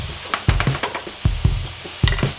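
Eggs and mushrooms sizzle in a pan over medium heat, with a utensil stirring and scraping in short, irregular knocks above a soft, steady frying hiss.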